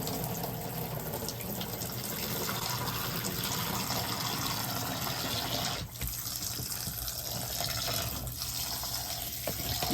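Cold water runs steadily from a tap into a tub for dyeing, a continuous close gushing and splashing that lasts throughout with no speech.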